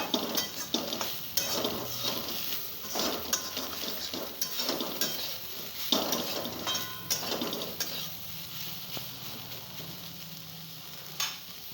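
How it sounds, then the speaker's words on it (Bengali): Soybean chunks fry in a pan for an egg and soybean curry. A steady sizzle runs under repeated clinks and scrapes of a spatula stirring against the pan, close up, with no talking. "এবার আমি সয়াবিনটা ভেজে নিচ্ছি"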